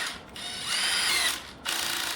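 A DeWalt 12V hammer drill's mechanical clutch slips with a rapid, loud ratcheting clatter in two bursts and a brief pause between them, close up with no voices.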